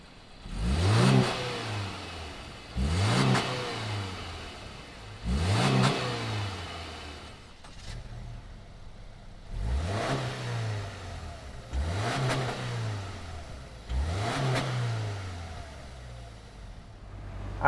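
A 2020 Subaru Outback and Forester are revved repeatedly, about seven sharp blips rising and falling at a steady pace, with a quieter idle between them, heard close by.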